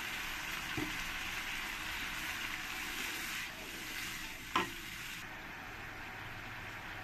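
Spice paste for a mustard foloi fish curry hisses steadily in a pan, with a brief splashy burst midway as water goes in.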